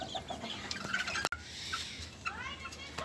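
A young Sebright bantam rooster clucks in short bursts. It sits amid background chatter and farmyard noise, with a sharp click partway through and a rising bird call near the end.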